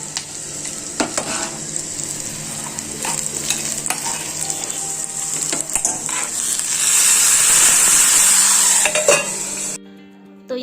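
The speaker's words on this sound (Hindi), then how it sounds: "इनको हम सॉटे करेंगे और गोल्डन ब्राउन होने तक इसको पकाते रहेंगे।" Onion and green chili sauté in a pan with a continuous close sizzle that swells louder toward the end, mixed with repeated scraping and clinking of a utensil against the pan, then a sudden cut.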